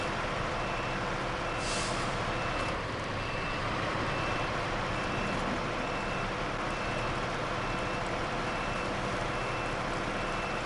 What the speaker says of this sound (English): The motor that's in this truck is for heavy class.